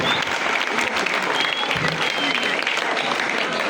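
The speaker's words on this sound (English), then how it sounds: "Let's clap for her." Students at a school tourism club session applaud a classmate in a hall, a thick, even wash of many hands clapping at steady volume with a faint voice underneath.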